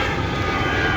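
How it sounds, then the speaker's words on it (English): A commercial airplane passes overhead near the Da Nang air base, a loud, steady broadband jet roar filling the short moment with no other sounds. "There goes another flight."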